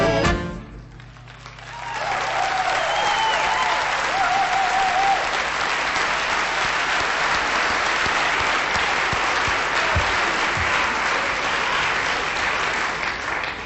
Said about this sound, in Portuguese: Acabaram de aplaudir o candidato Vieira.